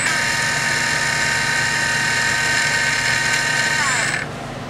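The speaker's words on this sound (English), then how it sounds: "This is a pretty quiet motor." ORCA Blitreme 3 electric motor freewheeling with no load, a smooth high-pitched whine held steady for several seconds, then dropping away as it spins down, fairly quiet and close.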